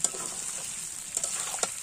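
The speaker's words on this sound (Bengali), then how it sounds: "এবার আমি আলু আর মাটনটা কড়াইতে দিয়ে দিলাম" Mutton and potatoes fry in a wok, giving a steady soft sizzle with a few brief stirring scrapes, fairly quiet and close, with no voices.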